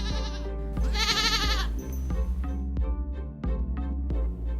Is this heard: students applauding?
no